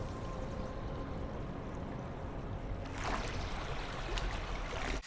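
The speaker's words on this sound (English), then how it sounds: "do a hard cut sound on the wave splashing of this guy walking in the water." Water sloshes and splashes continuously as someone wades through shallow waves, a fairly faint, even wash that grows slightly brighter and busier partway through.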